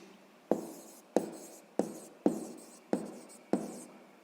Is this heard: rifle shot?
no